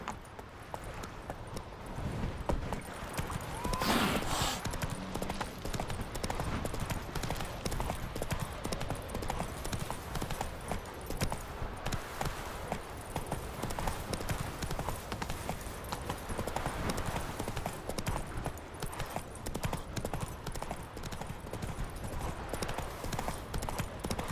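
Roach the horse from The Witcher 3 gallops steadily, her hooves making a continuous rhythmic clip-clop close by for the whole stretch, with a faint voice briefly underneath.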